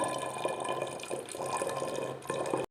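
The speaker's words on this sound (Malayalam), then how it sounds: "ഞാൻ കുപ്പിക്കകത്ത് ഒഴിച്ചിട്ട്" Homemade grape wine poured into one-litre bottles, a short steady liquid gurgle with faint rhythmic glugs, close and fairly quiet, ending abruptly.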